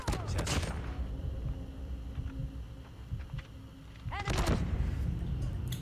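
Bursts of PDW-57 submachine gun fire in Call of Duty Mobile, rapid loud volleys at the start and near the end with quieter game sounds between.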